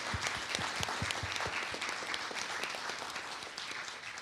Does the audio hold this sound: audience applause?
yes